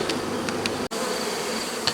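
A dense, steady buzz of many bees swarming close by, continuous and droning, with a brief dropout partway through.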